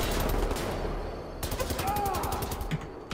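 A mounted gun firing in Wolfenstein: The New Order, a rapid continuous burst of heavy gunshots, loud and close, with a short pause partway and the burst resuming over game noise.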